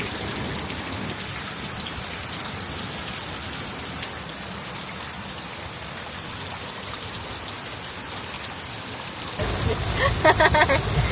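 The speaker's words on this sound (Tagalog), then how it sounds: "The rain is so strong." Heavy rain pours steadily, a dense hiss of drops on surfaces that grows louder and rougher near the end.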